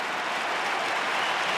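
Crowd at an Australian football match between Kangaroos and Melbourne, a broad, steady roar of cheering and clapping from a large stadium audience, sustained and evenly loud without speech.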